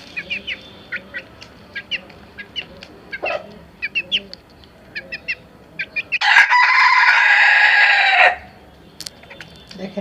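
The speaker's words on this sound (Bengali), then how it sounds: "এই যে আমার মুরগ একটা আছে এখানে, দেশি মুরগ" Native deshi chickens, including a naked-neck breed, with repeated short clucks and chirps from hens close by, then a loud rooster crow of about two seconds near the end, with faint talking underneath.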